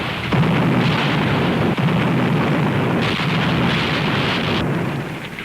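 Cannon fire from a reenactment of the 1634 Dutch assault on Filipeia forms a dense, continuous roar of overlapping blasts. It stays loud and sustained throughout, with a few sharper booms breaking through the din.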